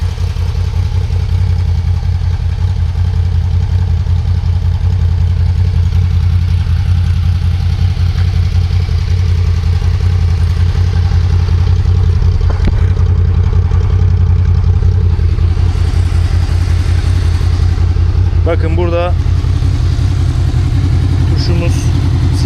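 A Honda Crossrunner 800X four-cylinder motorcycle engine idles close by with a steady, even low hum throughout, while a voice talks over it.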